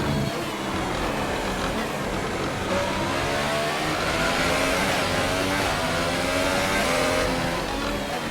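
A Formula 1 car's engine in the F1 2018 video game at the Hungaroring, racing with worn internal combustion engine, revs rising and shifting in a steady loud continuous howl through gear changes, no talk.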